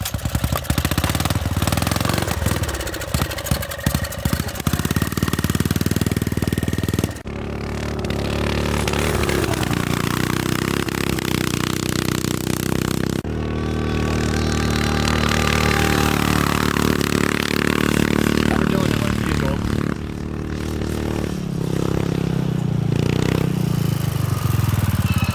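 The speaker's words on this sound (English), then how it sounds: "Come on, Dylan, it's a lawnmower" A lawnmower engine runs loud and close throughout, with rough revving surges and brief drops in pitch between bursts, the small motor roaring continuously without pause.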